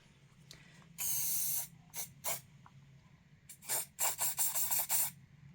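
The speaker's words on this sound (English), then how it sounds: "I'm going to spray some hairspray in it" Hairspray hisses from an aerosol can in close, loud bursts: one long spray, two short puffs, then a rapid run of short sprays, with quiet pauses between.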